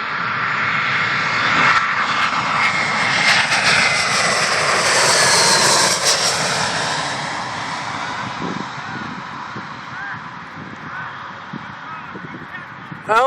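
A fixed-wing airliner comes in to land at Reagan National Airport (DCA), its engine roar swelling loud and close as it passes overhead, then fading away, with no talk over it.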